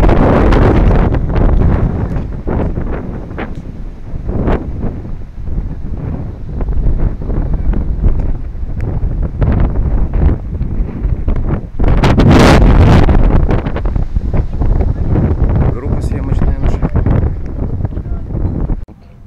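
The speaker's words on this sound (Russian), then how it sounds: "Опять немного ветра." Wind buffets the microphone outdoors at the Mamayev Kurgan memorial in Volgograd, a loud, continuous low rumble with surges, strongest around the middle, and brief voices now and then.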